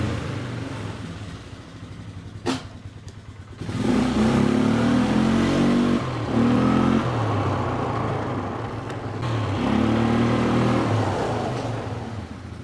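A 2002 Polaris Sportsman ATV engine with freshly adjusted valves idles, then is revved loudly and steadily with brief dips between pulls, close by, after a sharp knock at the start.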